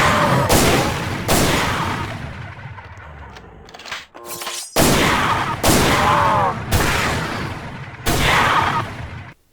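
Loud rapid bursts of MCX-SPEAR gunfire in the Roblox game Project Lazarus come in close clusters, with a brief lull in the middle before further sharp volleys. No one speaks.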